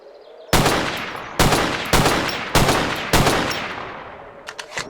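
Five loud, close gunshots ring out in ZERO Sievert, spaced roughly half a second to a second apart, each with a sharp crack and decaying tail, then a few quieter mechanical clicks.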